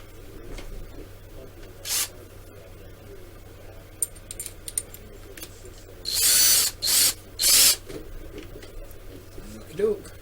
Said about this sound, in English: Hopefully this drill's deep enough, because it's not a deep 1/8.